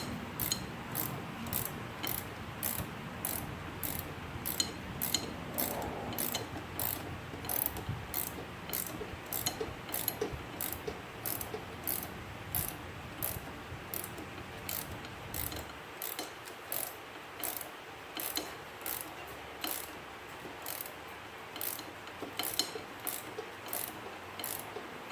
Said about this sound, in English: you can start ratcheting it and it just wants to start spinning